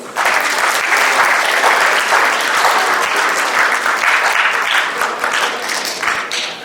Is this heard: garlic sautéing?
no